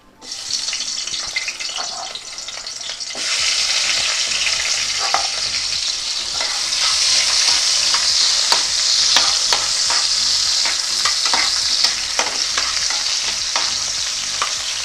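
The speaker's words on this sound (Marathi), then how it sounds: "इथे मी रफली चॉप केलेला एक कांदा आणि एक टोमॅटो आहे ते घालते" Chopped onion and tomato fry in a hot pan, a loud, steady sizzle that swells after a quieter first few seconds, with occasional scrapes and stirs running throughout.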